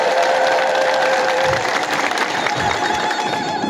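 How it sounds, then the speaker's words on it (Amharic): A congregation at a sermon claps together in a steady, fairly loud wash of applause that holds evenly for a few seconds. "እስኪ አጨብጭቡ አንድ ጊዜ ግን"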